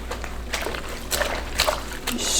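A wool tam scrubbed and agitated in hot water while felting, with soft repeated splashes and sloshing bursts over a low steady hum, close by.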